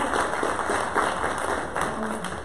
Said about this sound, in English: Please give her a round of applause like we do in D1.